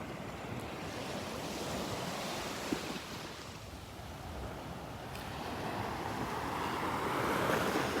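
Small ocean waves break steadily on the beach at Delnor-Wiggins, a continuous wash of surf with a light wind rush that swells a little louder toward the end, with no voices.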